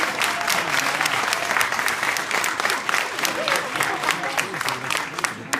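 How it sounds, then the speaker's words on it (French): Lively applause from a large audience during a speech, dense rapid clapping that stays loud and steady throughout, with a few voices mixed in. "D'habitude, vous applaudissez."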